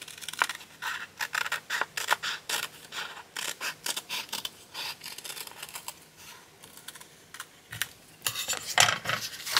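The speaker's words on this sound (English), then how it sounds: "So the pair of scissors, I'm actually going to go just in between those two" Scissors cut through paper in a craft session, a rapid run of crisp, irregular snips and slicing scrapes, close and fairly loud, stopping and starting over several seconds with no talking.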